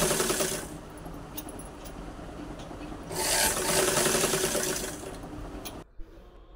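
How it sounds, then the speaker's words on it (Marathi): A sewing machine stitches a round seam on a blouse lining, running with a fast, steady mechanical whir and clatter up close, surging louder partway through, then stopping abruptly just before the end. "आपल्याला अशी राऊंडवर पूर्ण शिलाई करून घ्यायची आहे"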